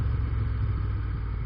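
A 2016 Moto Guzzi Griso V-twin motorcycle with stock exhaust rumbles steadily up close, a deep, dense engine drone holding an even level with no voices.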